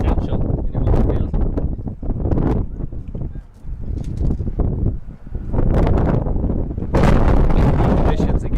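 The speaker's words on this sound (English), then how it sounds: "Windy conditions again. Really windy conditions." Strong gusts buffet the microphone at an outdoor women's college soccer match, rumbling bursts that rise and fall over several seconds, loud and close, with a commentator's voice faintly underneath.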